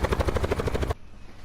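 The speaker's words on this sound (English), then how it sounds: "I'm getting my helicopter and I'm out." Helicopter in Call of Duty Blackout, a close, loud rapid rotor chop beating rhythmically for about a second, then cutting off to quiet.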